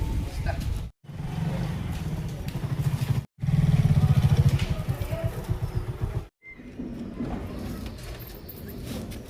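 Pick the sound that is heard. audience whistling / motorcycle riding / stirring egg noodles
motorcycle riding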